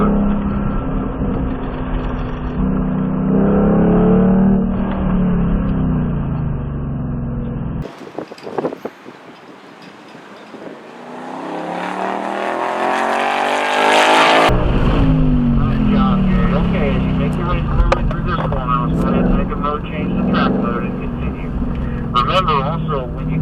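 A Ford Mustang Mach 1 engine drones on a race track, rising and falling with throttle and shifts. A loud mid-clip rush of wind or interior noise briefly covers it, and talk runs over the sound throughout.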